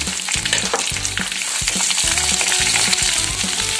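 Onions sizzling in a hot pan with garlic and dried red chillies for pirandai chutney, a close, loud, continuous fry crackle broken by rhythmic scrapes and taps of stirring, with no voices.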